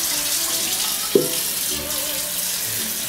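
Hot water runs steadily from a kitchen tap into a container in a continuous hiss, with a brief knock and a faint tonal shift as it fills.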